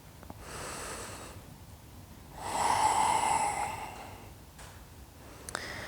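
Two slow, deep breaths during a chair yoga session, each a long audible inhale followed by a fuller, louder exhale, close and unaccompanied by speech.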